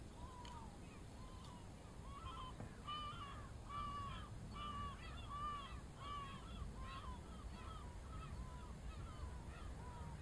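Gulls call repeatedly in short harmonic squawks near Dublin Airport, fairly close and clear over a steady background rumble.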